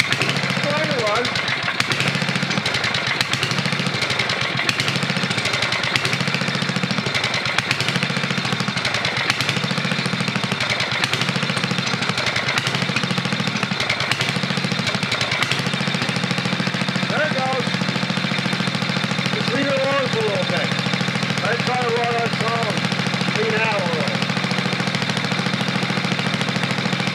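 A 1988 Briggs & Stratton 8hp engine on a Caldor MTD lawn tractor, just fitted with a rebuilt carburetor, sputters and tries to run. It chugs in a rough, uneven rhythm, loud and close, as it surges and labors, while a person talks.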